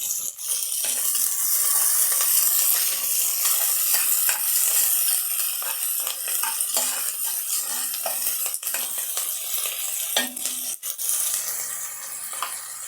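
Onion and curry leaves frying in hot oil with dried red chillies for milagai killi sambar, a steady loud sizzle broken by scraping stirs and clinks of a spoon against the pan, with no talk.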